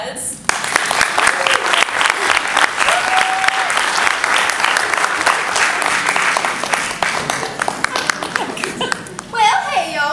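Audience at a holiday concert applauding the band, loud sustained clapping with scattered cheers and chatter, ending as a voice begins speaking.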